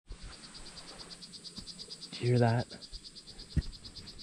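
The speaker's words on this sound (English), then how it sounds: "There was a poison dart frog right there calling." A poison dart frog calls once from the rainforest canopy, a short buzzy trill that stands out over a steady, dense chorus of insects. A person speaks briefly near the start.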